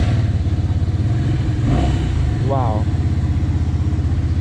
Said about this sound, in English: this has got the sound. I mean, very nice sounding motorcycle.